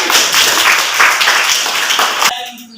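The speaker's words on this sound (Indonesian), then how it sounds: "Kita tepuk tangan untuk kelompok 1." Dense, loud applause from a classroom group fills the space for over two seconds before cutting off abruptly, leaving brief quiet talk.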